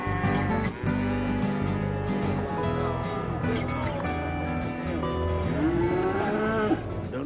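Cattle at a livestock fair in Albania, with cows mooing loudly and repeatedly over a constant background of crowd and animal noise, and one long drawn-out moo near the end.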